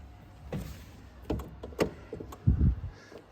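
A 1954 Austin-Healey 100/4 door being worked from inside the car: several quiet clicks and latch knocks, ending in a heavier thud, with near handling sounds and no talk.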